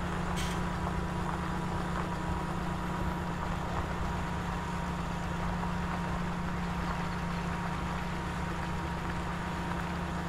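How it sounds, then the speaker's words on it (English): A tractor engine labors up a hill in a farming video game, a steady droning hum with a constant low tone, no talking. "Oh, come on, tractor, we can make it up the hill."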